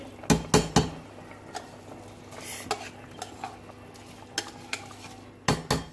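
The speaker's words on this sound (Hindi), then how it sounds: "अब हम इसमें चावल ऐड करेंगे।" A metal spoon scrapes and clanks against a pot as rice goes in and is stirred with softened potatoes for chicken aloo pulao, sharp irregular knocks over a faint sizzle, with no one speaking.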